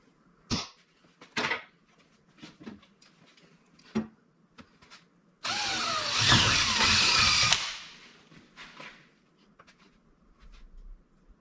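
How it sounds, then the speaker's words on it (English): A power drill whines close by for about two seconds, drilling a hole for a skid plate on a Factory Five MkIV Roadster, preceded and followed by sharp knocks and clicks of tools being handled. "And now center punch, drill, and tap"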